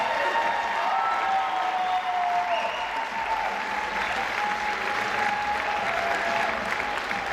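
Audience at the 2018 Mrs. Colorado Pageant applauding and cheering continuously, a steady full wash of clapping in a hall with a few shouts and whoops rising over it, fairly even in loudness throughout.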